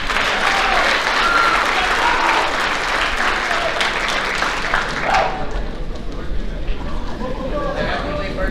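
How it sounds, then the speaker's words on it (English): Audience at a high school athletic banquet applauding senior athletes, loud sustained clapping mixed with crowd chatter that fades and thins after about five seconds. "Let's give all these athletes one more round of applause."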